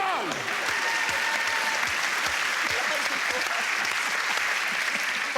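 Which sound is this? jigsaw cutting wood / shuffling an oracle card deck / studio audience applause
studio audience applause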